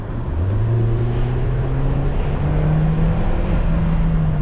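Engine of a 2013 Hyundai Elantra with a check-engine light problem, revved up steadily with a rising then sustained drone, loud and close, no talk.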